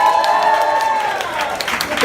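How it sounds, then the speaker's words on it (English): A comedy club audience claps and cheers in a dense, continuous wash of applause, with a voice ringing out over the noise. "yes, please, cheer for him"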